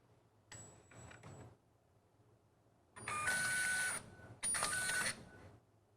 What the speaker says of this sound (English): press function to move the carriage on top of the capping station